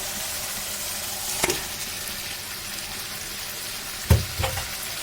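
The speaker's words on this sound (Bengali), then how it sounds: "চিকেনটা দিয়ে নেড়ে নেব।" Chicken fries in a pan with a steady, moderate sizzle, broken by two sharp clanks of a utensil as it is stirred.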